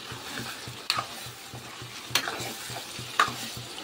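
Chicken fries in a pan under a steady low sizzle, with three distinct scraping strokes of a spatula spaced about a second apart, close and fairly quiet.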